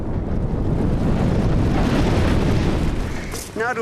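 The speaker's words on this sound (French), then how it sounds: "Il était en train de filmer au sommet du volcan lorsque celui-ci a explosé." A volcano erupts and explodes at its summit, a loud sustained rumbling roar mixed with heavy wind buffeting on the microphone, easing slightly near the end.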